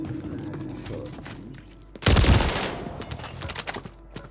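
Gunfire in the video game Warzone 3, with faint scattered shots and then a sudden loud burst midway that decays into lighter crackling.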